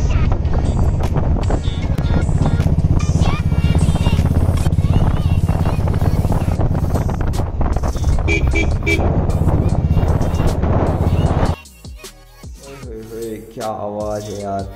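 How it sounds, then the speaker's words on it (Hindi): Yamaha RX 100 two-stroke motorcycle engine and exhaust, a loud continuous close-range rumble for most of the clip, cutting off abruptly near the end to a quieter, thinner idle-like tone. "इस बाइक की आवाज़ ही हर किसी को बता देगी कौन सी बाइक है। RX 100 यामाहा की तरफ से"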